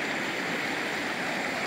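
A river flowing steadily, with a continuous broadband rush of water at an even level for the whole stretch. No voices are heard.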